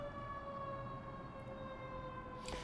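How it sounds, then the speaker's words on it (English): A fire engine siren wails steadily at a distance, its sustained tone droning on through the whole stretch with faint background rumble. "Oh, I hear a fire engine."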